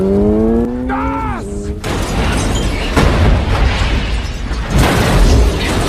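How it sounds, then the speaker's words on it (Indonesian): A loud, sustained car explosion roars over a blast of noise, with a brief rising mechanical whine just before it and rumbling debris continuing afterward, from the film The Fast and the Furious. "geng motor, yang diketuai oleh John Tran, yang kemudian menembak mobil hingga meledak."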